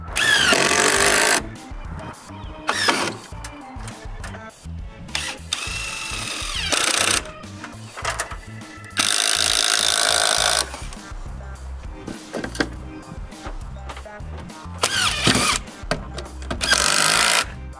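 A power drill drives screws through soffit panels into wooden nailing triangles in a new workshop, its whine rising in several loud bursts of a second or two, separated by quieter handling and knocking sounds.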